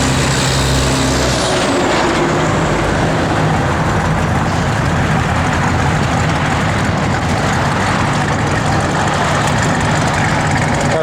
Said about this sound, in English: Car sounds good too.